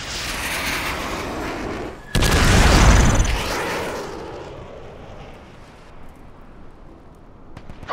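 A heavy airstrike explosion booms in the video game Army of Two, a sudden loud blast with deep rumble that rolls on and slowly fades, after earlier background din.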